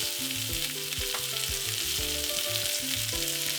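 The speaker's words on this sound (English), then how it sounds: "into the pan, I'm going to add, that's a half a small onion, white onion" Half a white onion, carrots and green, yellow or orange peppers sizzle in a pan, a bright continuous frying hiss with stirring clatter and a faint tonal hum underneath.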